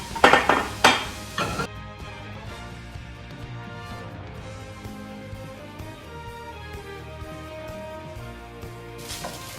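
Pots and utensils clatter as leftover white rice, warmed beforehand, is tossed into a pan for omurice; a few sharp clinks open, then a steady low sizzle and scraping carry on, with another clank near the end.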